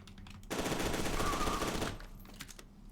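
A sustained burst of rapid automatic gunfire in the F.E.A.R. 2 video game, dense and loud for about a second and a half, with a few sparse shots before and after.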